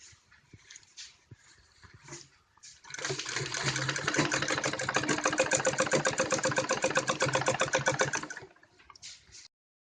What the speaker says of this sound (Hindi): उसी शेप के हिसाब से हम इसके ऊपर एक और सिलाई लगाएंगे।